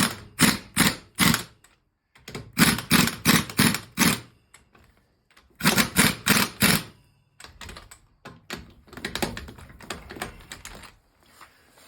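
A wrench working on the wheel lug nuts of a 2014 Ford Escape, in rapid bursts of sharp ratcheting clicks grouped in clusters with short pauses between, close and fairly loud.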